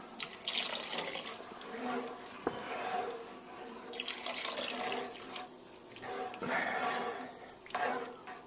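Water poured from a tap into a pot of bean soup with ham, a steady splashing flow with brief surges, and a voice speaking now and then underneath.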